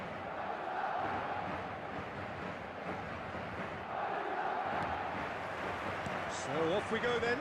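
A dense stadium crowd roars steadily in an eFootball 2026 match, a continuous broad wash of massed voices that swells slightly midway, with a brief whistle-like rise near the end.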